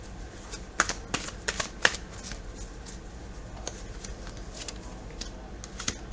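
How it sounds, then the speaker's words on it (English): A deck of tarot cards being shuffled by hand, crisp riffling bursts and soft slaps recurring irregularly, close and alone without speech. "So let me give this one last shuffle and one last layer."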